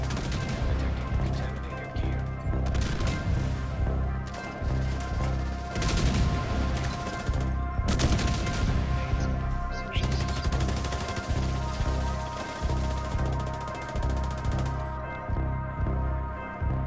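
Turret gunfire in The Division 2, a loud, sustained stream of rapid automatic shots broken by brief pauses, with heavy low-end impacts throughout.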